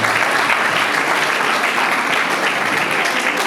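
Wedding guests at a French civil marriage ceremony applaud in a steady, dense burst of clapping that fills the room evenly from start to finish.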